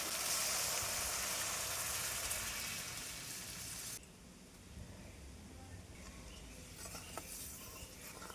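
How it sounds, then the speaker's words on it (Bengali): Water poured into a pan of sizzling, fried fish curry masala, a loud, steady hiss for about four seconds that then drops to a softer bubbling sizzle with a few faint clinks. "এবার জল দিয়ে দিচ্ছি।"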